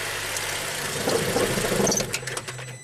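A GM V6 engine idles with a low, uneven rumble during bank 2 exhaust testing, then its tone changes and falters as it stalls after the pin is grounded. It sounds close and steady, with no talking.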